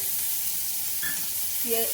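Chopped onion and garlic fry in a hot wok, giving a constant close sizzle with a couple of brief clinks or scrapes near the end, and no voices.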